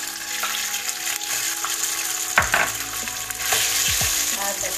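Pork fries in a pan with garlic and cilantro, giving a continuous close sizzle broken by a few scraping stirs of a utensil against the pan.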